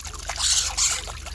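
A young starling bathes in water, making a soft, close fluttery splashing and trickling with quick bursts of droplets over a brief moment.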